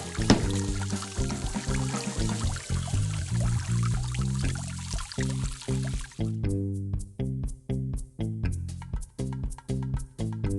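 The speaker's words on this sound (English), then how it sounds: "Move the hose and put objects on the wall to create a path for the water to reach the dog's dish." Water pours from a hose into a dog's bowl in a children's science video game, a steady splashing stream mixed with bright, plinking game music throughout, with no voices.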